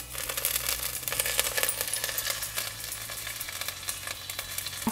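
Curry leaves crackle and sizzle in hot oil with dry red chilies for a South Indian ginger lemon rasam, a dense run of sharp pops and spatters close up, with no talk.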